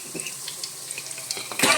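Curry leaves dropped into hot oil with mustard seeds and cumin in a pan, giving a steady close sizzle and faint crackle that flares louder near the end, with no talking.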